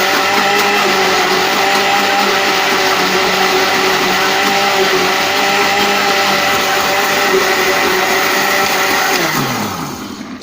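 A blender whirs steadily at high speed, mixing a banana and beetroot milkshake for a long run, loud and continuous with no talk, then winding down and stopping at the very end.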